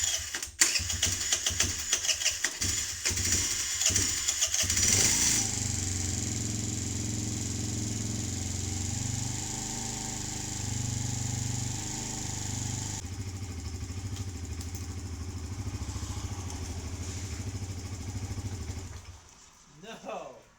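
A Kawasaki KFX50 ATV, its carburetor float just readjusted, is cranked and starts, with ratcheting mechanical clatter at first, then a steady close idle that dies away at the end.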